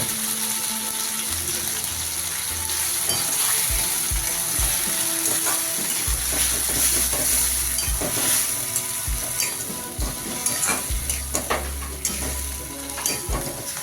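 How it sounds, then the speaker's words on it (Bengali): Ginger-cumin paste, tomato and green chili paste fry in a pan while a spatula scrapes and stirs in repeated rattling strokes over a continuous sizzle, loud and close throughout. "তারপর তাতে আদা জিরে বাটা আমি দিয়ে দেব আর দেব টমেটো কাঁচা লঙ্কা বাটা দিয়ে ভালো করে কষবো।"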